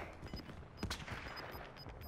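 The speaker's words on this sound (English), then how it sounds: "I hear the gunshots." Gunfire in a Warzone match crackles in quick, faint bursts from a distance, a few sharper cracks standing out against a low, steady game background with no voices.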